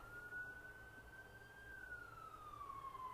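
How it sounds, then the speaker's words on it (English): A single siren wails in the distance as one long, slowly rising and falling tone over low background hum, faint and steady. "sorry, there's always the weird sirens,"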